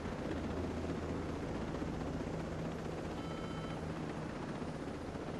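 Helicopter in the video game Ghost Recon Breakpoint, a steady dense rotor and engine roar filling the whole stretch at constant loudness, with no talking.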